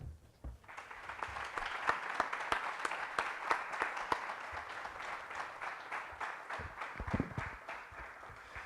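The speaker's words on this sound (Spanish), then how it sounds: "yo creo que se merece un aplauso" An audience at a world conference on HIV and LGBT+ issues breaks into sustained applause, a dense, even wash of clapping that begins after a brief pause and holds steady throughout with a few louder claps near the end.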